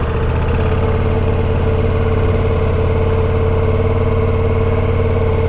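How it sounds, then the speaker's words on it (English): Ducati Multistrada V4 Rally motorcycle engine running at a steady, loud idle close by, a constant droning hum with no pauses and no talk. "So let's crank this bike over."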